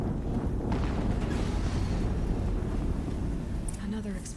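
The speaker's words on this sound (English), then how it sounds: "Another explosion." A long rumbling explosion in Horizon Zero Dawn fills the clip, a loud sustained low roar that eases slightly near the end, where a voice briefly speaks.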